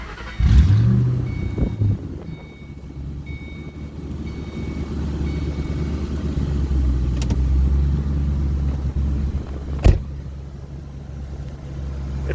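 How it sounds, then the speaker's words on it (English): A 2006 Ford Mustang GT fitted with a Whipple supercharger starts up, a brief cranking burst giving way to a steady, loud low rumble of the running engine close by, with no talk. "Let me put the key back in and start the car right quick."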